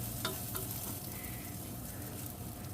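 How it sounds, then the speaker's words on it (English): Rice grains stirred and toasted in butter in a pot for sausage and bean jambalaya: a soft, faint sizzle with a few light stir clicks over a low background hum. "So I'm going to mix it around to coat those rice kernels in the butter"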